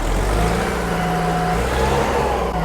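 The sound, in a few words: New Holland 8030 tractor 4-cylinder NEF engine revving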